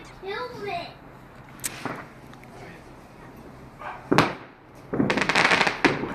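Fireworks on Bonfire Night: several sharp bangs and crackling bursts at moderate distance, with a whistling rocket early on, a dog barking and people talking in the background.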